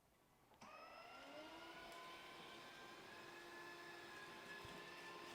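A Dyson Ball Animal 2 vacuum cleaner switches on with a sudden click and its motor whine rises quickly to a steady, faint hum that continues alone.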